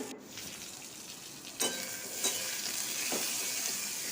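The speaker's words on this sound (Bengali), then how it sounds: "এবার আমড়াগুলোকে দিয়ে দেব দিয়ে ভালো করে ভেজে নেব" Hog plums frying in oil with black mustard seeds give a steady, moderate sizzle. A few stirring scrapes and clatters come through partway in.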